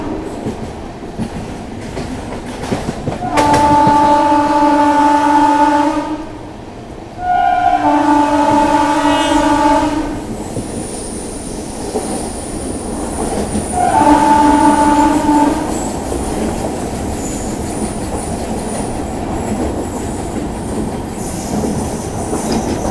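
Duronto Express train running on rails between Visakhapatnam and Secunderabad, a loud steady roar and rattle with repeated horn blasts.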